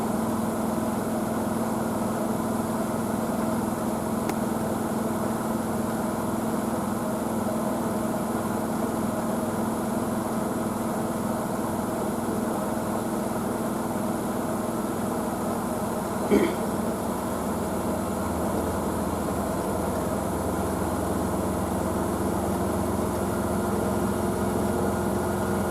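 A Blomberg WNF9448 washing machine spins a full load of large bath towels at high speed, a steady loud droning hum with a constant whine that holds throughout, with one faint tap midway.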